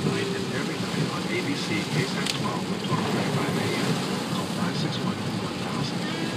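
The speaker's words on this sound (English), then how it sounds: "I hope you guys aren't stuck in the rain like I am." Heavy rain falls in a steady, dense hiss that stays evenly loud throughout, with a faint low rumble underneath.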